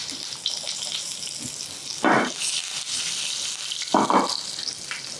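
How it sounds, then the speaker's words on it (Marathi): Mustard seeds, cumin and chopped garlic sizzle in hot oil for tempering, with a steady hiss broken by two short, louder crackling bursts close at hand and no talking. "चला, मोहरी मस्त चुटचुटायला सुरुवात झाली."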